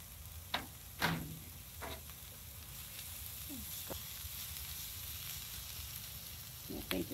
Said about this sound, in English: Bacon finished cooking, we'll just dump the vegetables in where they were sitting before.